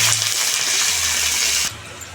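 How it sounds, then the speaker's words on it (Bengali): Grated papaya being rinsed with water and squeezed out by hand in a rustic village-style kitchen, a steady close wash of splashing, gushing water that runs continuously before easing off near the end. "কুড়িয়ে নেওয়া পেঁপেগুলো জল দিয়ে আমি একটু ধুয়ে এইভাবে নিগড়ে জল ঝরিয়ে তুলে নিচ্ছি"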